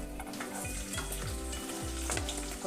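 Chopped onion pieces sizzle steadily in hot oil in a pan, a continuous bright frying hiss with a few soft low stirring bumps, close and alone with no voices.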